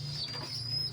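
A male racing pigeon coos softly and close by, a short low rolling call heard alone without talk.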